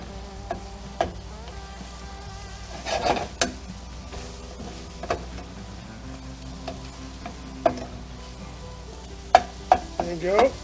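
Eggs for French toast cook in a pan with a soft, steady sizzle, broken by scattered clinks and scrapes of a utensil and a faint buzzing close by.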